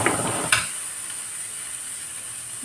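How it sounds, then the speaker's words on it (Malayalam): Washed chicken drops into a hot pan with a brief clatter, followed by a steady, bright sizzle and hiss of frying that stays even and continuous. "നമുക്കിതിലേക്ക് കഴുകി വെച്ചിരിക്കുന്ന ചിക്കൻ ഇട്ട് കൊടുക്കാം"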